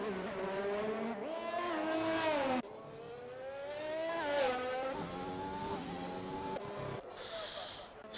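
Formula racing cars on the Monaco street circuit in a racing video game, engines screaming through rising and falling gear changes, sharp cuts between revs, a brief skid near the end, and commentary talking underneath.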